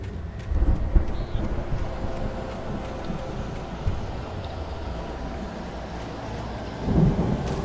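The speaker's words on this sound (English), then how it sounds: "The storm raged on" Storm ambience from the game Alan Wake: thunder booms near the start and again toward the end over a constant wash of rain and wind.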